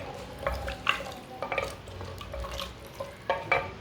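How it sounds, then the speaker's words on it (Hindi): Meat being stirred in a pot with two glasses of water, giving soft irregular sloshes and scraping strokes close by, with no talking. "दो गिलास पानी डाल लिया मैंने, अच्छी तरह मिक्स कर लेंगे"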